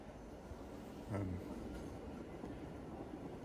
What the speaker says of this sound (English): We're about to pass the other train.